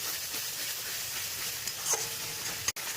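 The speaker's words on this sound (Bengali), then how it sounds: "এবার এটাও সুন্দর করে কষিয়ে নেবো যেন টমেটোর কাঁচা গন্ধটা চলে যায়" Tomato and spices with Kashmiri chilli powder sauté in a pan for a Katla fish roe curry, a steady close sizzle and hiss with soft stirring scrapes and a sharp clack near the end.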